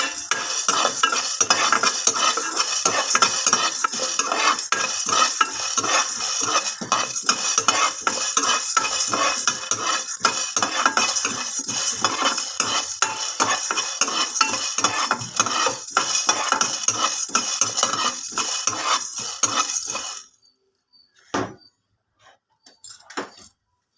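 Egg garlic masala frying in a pan with steady, close stirring and scraping, sizzle and clinks of a spoon running continuously for about twenty seconds, then stopping abruptly into near silence with a few faint knocks.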